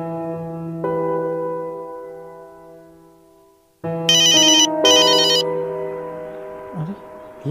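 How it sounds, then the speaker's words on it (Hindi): A mobile phone ringtone plays in a Hindi short film scene, a sustained tonal melody that drops off, then returns louder with bright high chiming bursts layered over it. "ये किसका फोन है?"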